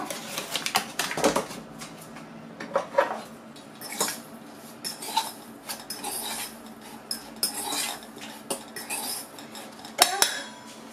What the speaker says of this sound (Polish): Rodzynki wrzucam do miseczki, posypuję trochę mąką krupczatką.